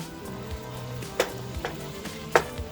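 Chopped onions and other vegetables for jambalaya cook in a pot, giving a soft, steady sizzle with a couple of sharp stirring clicks.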